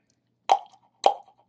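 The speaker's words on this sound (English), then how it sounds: "we get a much more exaggerated ping-pong effect." Two separate tongue clicks sound about half a second apart. Each leaves a fluttering ping-pong echo between widely spaced simulated hallway walls, set against otherwise silent surroundings.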